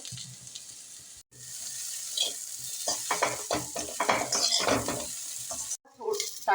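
Shredded cabbage filling for samosas cooks in a pan with a steady sizzle and intermittent stirring scrapes, close and moderately loud, broken by two brief silent gaps.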